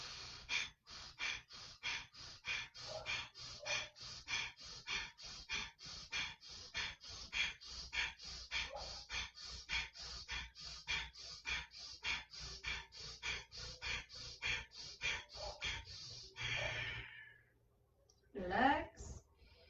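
Deep rhythmic breathing during a breathwork exercise, a long run of quick, forceful breaths close and even, followed by a pause and one big drawn inhale and release.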